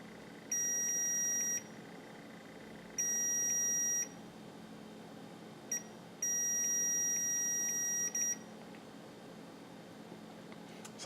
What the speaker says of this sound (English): I have my test leads set to continuity, so you'll hear the beep as well as I.